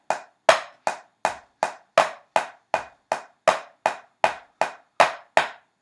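A steady eighth-note drum pattern is tapped by hand on a historical atlas used as a drum pad, a crisp, evenly spaced series of close, dry thumps with no talk.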